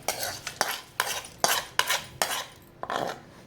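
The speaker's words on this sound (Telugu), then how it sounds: "ఇదంతా ఈ రైస్లో కలిపేద్దాం" A spoon scrapes and knocks against a pot in a steady rhythm, about seven strokes of stirring tempered spices into rice for citron rice, close and moderately loud.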